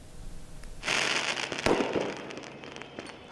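Sharp bangs and a burst of hissing crackle as riot police fire tear gas and rubber bullets at protesters in Istanbul's Taksim Square, with the noise fading over a few seconds.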